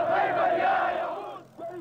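An angry protest crowd roars through the streets of Khartoum after Friday prayers, a dense, sustained mass of shouting voices that dips briefly near the end before swelling again.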